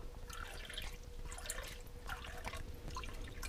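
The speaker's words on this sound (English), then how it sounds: "So I'm going to add 2 cups of water." Water is poured in soft, quiet trickles and drips into a slow cooker, low in level with faint background hum.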